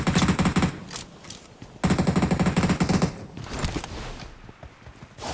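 Rapid automatic gunfire in the battle royale game PUBG, loud bursts of machine-gun fire in two long volleys with scattered shots between, close and sharp.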